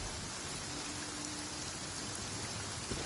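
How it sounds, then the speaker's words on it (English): Steady rain falls in a video game as a dense, even hiss of drops on a surface, continuous and unbroken with no voices. "I'm used to the rain, but you should probably use an umbrella."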